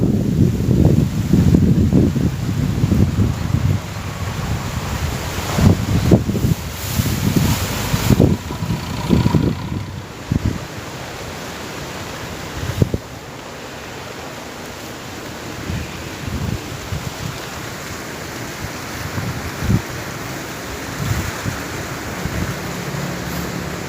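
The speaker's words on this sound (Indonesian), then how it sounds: "Anginnya kencang, sebentar lagi paling hujan." Strong storm wind blusters across an open outdoor area, loud gusting roar in the first half easing to a steadier, softer rush later, with occasional buffeting thumps.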